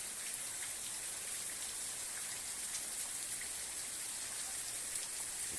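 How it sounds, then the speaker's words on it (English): Steady rain falling during a thunderstorm, heard as a soft, even hiss with no break and no thunder or voices, fairly faint throughout. "It just keeps raining like this for another maybe 15, 20 minutes."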